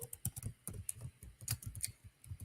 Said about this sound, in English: I'm typing in today's topic.